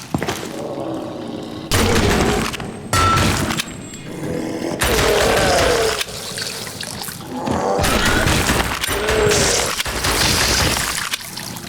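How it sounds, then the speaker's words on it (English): Gunfire from the House of the Dead remake video game: crisp bursts of shots in loud clustered volleys separated by brief gaps, mixed with crashing and shattering game effects. "The gunshot sounds in this game are pretty crisp"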